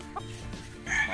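Milsim Black gamefowl chickens cluck in short bursts, a brief nasal call near the start and a louder squawk toward the end over a low background murmur.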